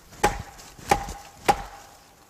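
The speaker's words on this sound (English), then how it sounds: "they're hitting on a very large tree." Three sharp, resonant wooden knocks, evenly spaced about half a second apart, strike a very large tree in the woods, each one loud and crisp and followed by a short decay into the quiet forest.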